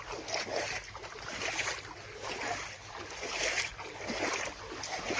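Irrigation water flows from a channel into a potato field, a steady rushing wash that swells and eases in gentle surges, close by and continuous with no talking.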